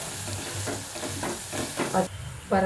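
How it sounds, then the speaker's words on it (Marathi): Turmeric sizzles in hot oil in a pan with a pinch of asafoetida, a soft frying hiss with light stirring scrapes, fairly quiet and without talk. "हळद आता परतू दे जरा"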